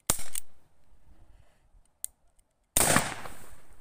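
Air gun fired at a plastic bottle under high pressure: a sharp crack at the start, quiet small ticks, then a loud burst with a hissing, spraying rush that trails off.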